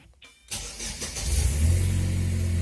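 A car engine cranks and fires after a push start button is pressed with the brake held, then settles into a steady low idle; the start is loud and close, with no talking.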